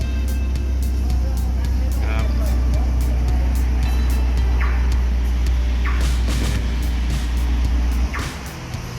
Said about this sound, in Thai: นี้รถได้ทำการสตาร์ทแล้วนะครับผม เราจะดับด้วยหน้าจอ LCD เหมือนเดิมนะครับผม